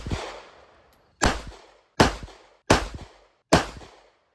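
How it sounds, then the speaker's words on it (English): Five sharp shots from a Ruger LCP Max pistol with thumb safety, each a loud crack with a quick decaying echo, spaced roughly a second apart or less with quiet gaps between them. "I'm gonna load up that LCP Max again and see if I can center the shots"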